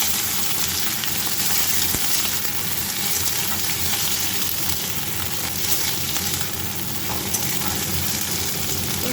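Garlic, green chillies and yardlong beans fry in hot oil in a home kitchen, giving a continuous loud sizzle with occasional stirring scrapes and no talk.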